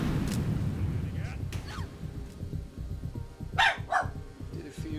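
A puppy gives a couple of short, high yips and barks indoors, brief and fairly near, over a busy background of game audio and low voices.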